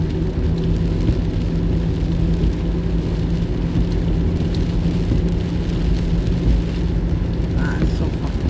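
Heavy pouring rain drums steadily on a car while driving through Nashville at night, a dense continuous wash over the low road and engine rumble throughout.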